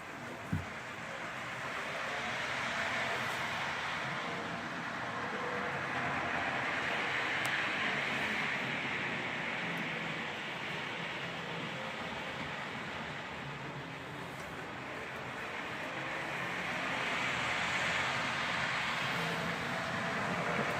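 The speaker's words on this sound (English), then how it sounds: "That's a little tiny train, isn't it?" A little toy model train running in a train and toy store, a steady soft rolling rumble and whir that swells and fades as it passes, fairly faint with no talk.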